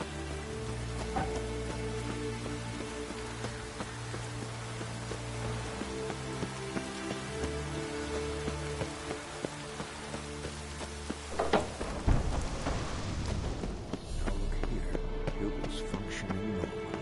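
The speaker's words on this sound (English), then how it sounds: "Looks like rain." Steady video game rain patters continuously over a low, droning ambient bed, with a brief louder rustle near the end.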